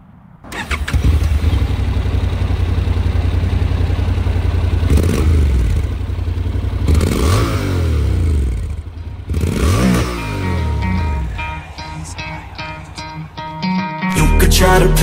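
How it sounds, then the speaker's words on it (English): A 2023 Honda NC750X motorcycle cranks and fires up, then settles into a loud, steady close-up idle with occasional revs and clattery mechanical shifts, ending with a burst of music. "I'm gonna do a little walk around this nice NC750X Honda and start it up so you can guys hear how she sounds"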